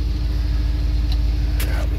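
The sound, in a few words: car engine running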